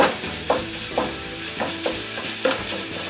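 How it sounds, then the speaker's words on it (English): Sausage meat browning in a pan for sausage gravy, a steady sizzle punctuated by regular scraping stirs of a utensil, close and moderately loud. "You're just looking to brown and cook the meat through."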